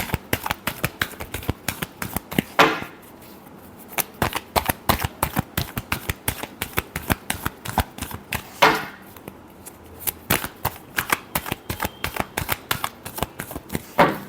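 Tarot cards are shuffled by hand in rapid, crisp riffling slaps, dozens of sharp close clicks in quick runs broken by a couple of brief pauses and longer riffle sweeps, with no speech.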